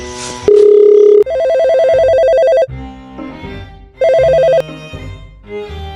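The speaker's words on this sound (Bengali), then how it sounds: "আমি ফোন দিচ্ছি" A telephone ringtone sounds on an outgoing call, loud and close: bright electronic tones in repeated bursts with short pauses between them, and no voices.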